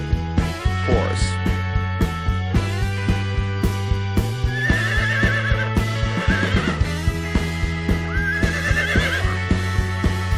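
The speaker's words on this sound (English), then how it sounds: "Horse." A horse whinnies twice in long shrill neighs over a steady rhythmic clip-clop of hooves, with a low droning tone underneath, close and clear.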